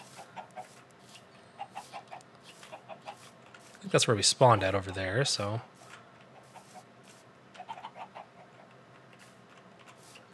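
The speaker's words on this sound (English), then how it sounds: "Lots of chickens." Minecraft chickens give short, quiet clucks in scattered bursts throughout, while someone speaks briefly over them in the middle.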